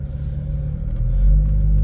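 A tuned B8.5 Audi S4 cruises along, heard as a deep, steady engine rumble from inside the cabin that swells slightly louder partway through.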